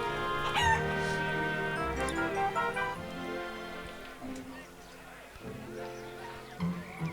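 Chickens clucking and crowing in the Wallace & Gromit video game Muzzled, a busy run of repeated cackles and calls layered over game music.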